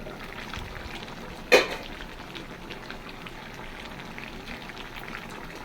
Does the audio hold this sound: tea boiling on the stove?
yes